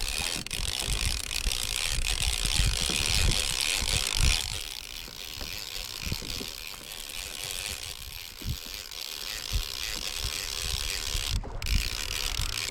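A fishing reel on a kayak winds in line, a continuous close ratcheting, clicking whir over water and wind noise, running steadily throughout with no talking.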